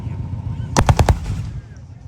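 A Sherman tank machine gun fires a short, sharp burst of about four rapid shots during a tank demonstration at the Canadian Tank Museum in Oshawa. A low background rumble runs beneath the burst.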